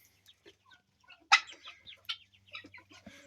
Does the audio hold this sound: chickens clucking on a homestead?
yes